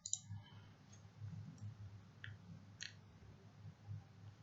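A single computer mouse click on an add button, a short, quiet tick over a faint low hum, with one or two more soft clicks following in an otherwise still room.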